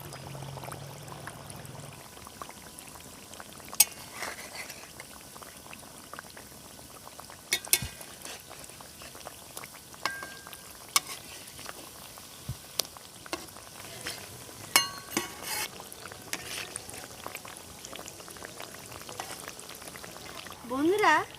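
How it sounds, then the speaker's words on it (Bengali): Cookies fry in oil over medium heat with a soft, continuous sizzle and bubbling, broken by occasional clicks and scrapes of a utensil, under a speaking voice. "এবার মাঝারি আছে আস্তে আস্তে করে কুকিজগুলোকে ভেজে নেব।"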